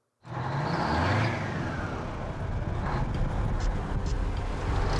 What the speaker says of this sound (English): The General truly is an embarrassing truck to drive.